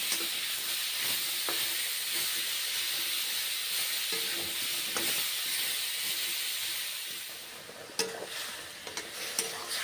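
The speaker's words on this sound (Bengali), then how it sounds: "পেঁয়াজগুলো ভেজে নিতে হবে কাঁচা কলা পেঁয়াজ এইভাবে ভেজে নিতে হবে" Onions and raw green banana fry in a pan with a steady, close sizzling hiss, broken by occasional stirring scrapes, and no voices.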